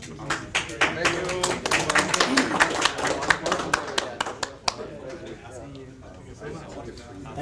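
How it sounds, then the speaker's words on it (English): A small audience claps in scattered bursts at a Tibetan debate gathering, the sharp hand claps loud and uneven under continuous talking before thinning out near the end. "A round of applause to"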